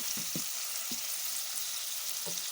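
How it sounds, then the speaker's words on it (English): Onions fry in a pan for stir-fried beef with peppers, a steady close hiss of sizzling oil with a few soft low knocks from stirring. "we don't cook the onions until they are golden brown"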